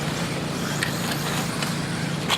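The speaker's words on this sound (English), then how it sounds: "Two-wheel drive buggy starting to come back" Two-wheel drive RC buggies racing on an offroad track, a steady buzzing whine of small motors carrying from a distance, with faint clicks over a constant outdoor background.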